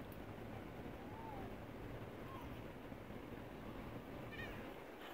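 A domestic cat meows a few times, fairly quiet and close, over a steady low background rumble.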